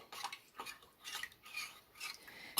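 Cornstarch mixture whisked until smooth, a spoon or whisk scraping round a bowl in quick, rhythmic strokes of about two per second, fairly faint and without talking.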